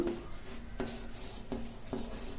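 Chalk or pen writing on a board in a classroom, four short scratchy strokes spaced about evenly, faint and close, with no speech.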